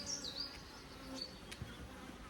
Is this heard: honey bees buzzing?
yes